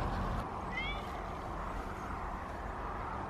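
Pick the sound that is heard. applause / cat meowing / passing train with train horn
cat meowing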